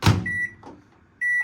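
A combination oven-microwave is set to oven mode: a soft thud, then sustained electronic beeps, a short one and another after a pause, close by with no talk.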